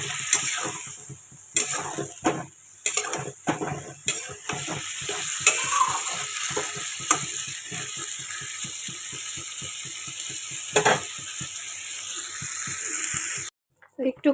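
Spice paste sautéed and stirred in a pan, with repeated rhythmic scraping strokes of a spoon over a continuous sizzle, while a person talks throughout; the sound cuts off abruptly near the end.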